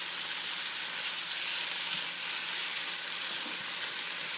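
Beets simmering in a pot of red borsch, giving a steady, even hiss and sizzle throughout with faint bubbling, close and moderately loud, with no voices.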